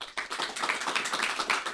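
An audience applauds West Virginia State Treasurer Riley Moore, a short, soft burst of scattered clapping that holds fairly steady for under two seconds with no voices over it.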